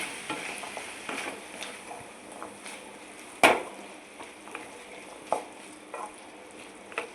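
Chana masala with turmeric is stirred in a pan, giving a soft frying hiss with gentle scraping strokes and one sharp clatter of utensil on metal, quiet and close, with no one speaking.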